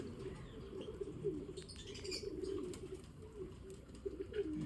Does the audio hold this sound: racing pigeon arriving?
yes